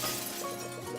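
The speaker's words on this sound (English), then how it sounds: "Suddenly, you hear the sound of a glass breaking." Window glass shatters in a brief, bright breaking sound effect, a single crash with ringing fragments that fills the whole moment.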